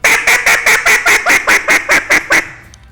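A duck hunting call is blown in a rapid, loud series of about twelve evenly spaced nasal honking quacks, each note short and close, ending with a brief fading tail.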